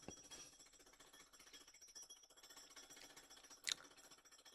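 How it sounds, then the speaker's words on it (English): Construction drilling outside in the morning, a steady jackhammer-like rattle running continuously at moderate distance, with a brief sharper burst near the end. "these construction motherfuckers think it's alright to just be drilling on right when I'm about to watch this shit"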